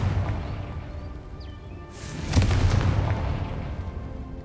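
A Confringo fire spell in the Hogwarts Legacy video game: a brief whoosh, then a loud booming blast with a low rumble that rolls on for a couple of seconds.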